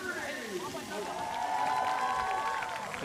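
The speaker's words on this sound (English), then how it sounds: "The crowd rooting for their favorite team." A sports crowd cheers and roars steadily at the Dubai Games 2025, with a commentator talking over the continuous din.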